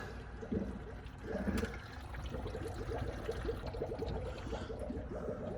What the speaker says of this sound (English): We're filling it up. So we'll just wait for this to stop bubbling.